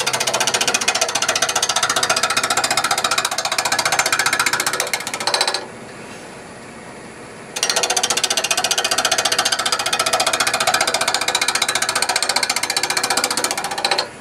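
A wood lathe turning a four-sided jar blank sends out a loud, continuous vibrating drone with a hard rattling edge. It drops out briefly near the middle, then resumes just as strongly.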